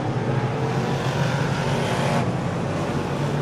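Race cars circle the Ohsweken Speedway oval during a Lucas Oil feature, a loud, continuous engine roar that holds steady throughout with no break.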